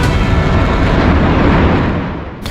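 A large explosion in the greater Tel Aviv area following air raid sirens sounds as a loud, broad rumbling roar that fills the whole clip, then fades near the end.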